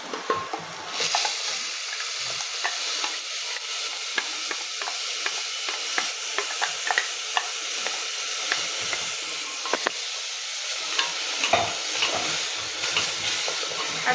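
Ground tomato purée hisses and sizzles in a hot pan while a spoon stirs it, a steady close frying hiss with repeated scraping ticks and soft bubbling pops, and no one speaking.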